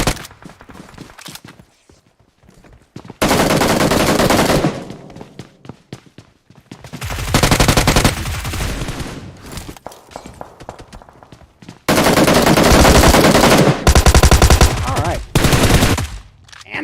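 Automatic gunfire in the mobile battle royale game PUBG Mobile, loud sustained bursts of several seconds separated by quieter gaps, with a final burst near the end.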